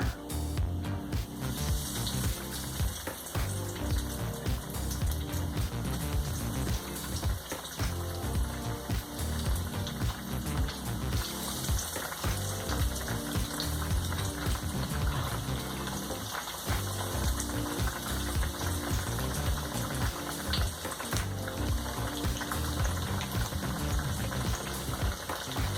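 Breaded pumpkin fries in hot oil with a steady, dense bubbling sizzle that continues evenly at moderate loudness throughout.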